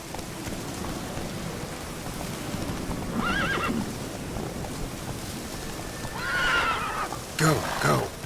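A horse in The Witcher 3 video game whinnies twice over steady hoofbeats and falling rain, with a short louder snort near the end.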